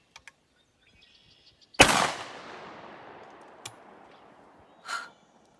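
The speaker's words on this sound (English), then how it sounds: "You want to shoot the other one?" A 24 gauge shotgun fires a single blast of number 4 buckshot outdoors, one sharp loud report with a long decaying echo, faint clicks before and a short breathy sound afterward.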